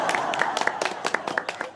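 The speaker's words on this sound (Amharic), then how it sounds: "በቅድሚያ ለራሳችሁ ሞቅ ያለ ጭብጨባ።" Applause from a sitcom studio audience, a steady run of sharp, fairly close hand claps that rises and dips in bursts throughout.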